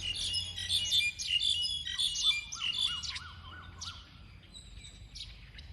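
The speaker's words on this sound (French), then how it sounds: "Toujours cette symphonie des oiseaux." Several birds sing in a Thai forest among historic ruins at Sukhothai, with bright repeated chirps and a lower rising-falling whistled call, fairly close against quiet background hiss.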